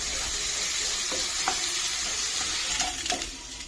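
Stirring a banana mixture as it cooks in a pan: a steady soft sizzle runs throughout, with scattered scraping clicks of the spoon against the pan, more frequent toward the end, and no voices.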